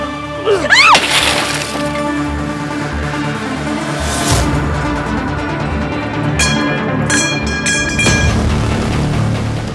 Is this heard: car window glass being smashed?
yes